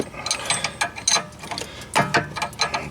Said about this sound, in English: I'll probably try to get the ratchet through there.